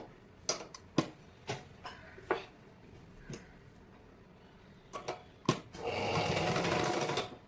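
Sewing machine stitching blouse fabric: several sharp, separate needle taps and clunks, then a close, steady mechanical whir of continuous stitching near the end.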